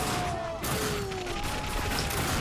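Gunfire in the video game The Darkness 2 comes as a continuous rattle of shots blended with game effects and a tonal background score, steady and fairly loud throughout, with a voice talking over it in places.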